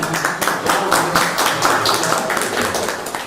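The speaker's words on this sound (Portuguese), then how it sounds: "Muito bem, vamos aplaudir, né?" Audience clapping in a Brazilian web TV interview, a short burst of dense, close applause with sharp individual claps, fairly loud and continuous throughout.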